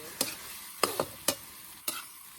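Pork adobo cooking in a pan, with four sharp scraping stirs of a utensil against the pan over a faint sizzle in the background.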